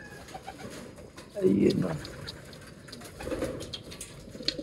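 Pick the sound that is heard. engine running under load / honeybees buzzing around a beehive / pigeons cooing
pigeons cooing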